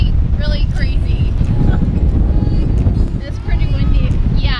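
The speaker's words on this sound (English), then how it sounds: "it's 27 knot gust of wind today, so it feels really, really crazy" Strong gusting wind of about 27 knots buffets the microphone atop a yellow tower, a loud continuous roar with surging gusts while a person talks over it.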